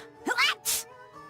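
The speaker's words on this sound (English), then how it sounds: "And just pull Velvet randomly sneezing." A character in the video game Tales of Berseria sneezes, a quick voiced intake followed by a sharp, loud burst, then quiet.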